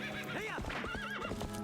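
Epona, the horse in the video game The Legend of Zelda: Twilight Princess, gives a loud, wavering whinny, with clip-clop hoofbeats under it and game music playing throughout.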